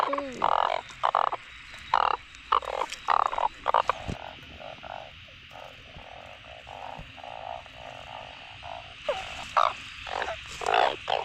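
Asian painted frogs croak loudly in a bamboo forest during heavy rain, a dense rhythmic chorus of close, pulsing calls over a steady rain hiss, thinning out in the middle before swelling again.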